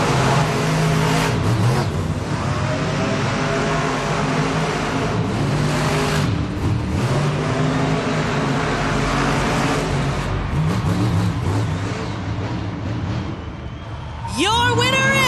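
Monster trucks Grave Digger and Earthshaker race in an arena at a Monster Jam event, their engines roaring and revving loudly and continuously, with a public-address announcer and crowd noise running underneath.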